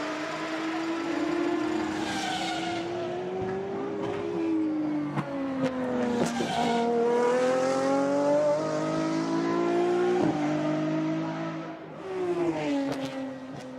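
A Lamborghini SCV12 track-only supercar, a Squadra Corsa racing V12 on a circuit at Barcelona, screams loudly and continuously through rising and falling revs with sharp gear changes over a full lap.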